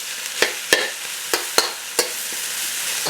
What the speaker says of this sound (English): I'm just gonna kind of break my rice up now